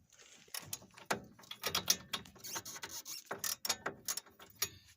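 On a 1999 Dodge Ram 1500 RWD, a ratchet with a 22 mm socket works on a tie rod end bolt, giving close, rapid clicking pawl runs with metallic clunks and pauses between bursts.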